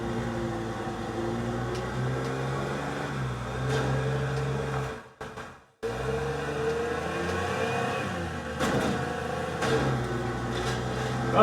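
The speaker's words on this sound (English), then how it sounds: "There is a Jeep. Jeeps are kind of weak." A Jeep engine in the game Teardown, droning at a mid pitch that rises and falls as it revs. The sound cuts out briefly, then returns steady and fairly close, with no talking.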